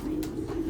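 A black racing pigeon gives one short, low, throaty coo, close and fairly quiet, with no other sound around it.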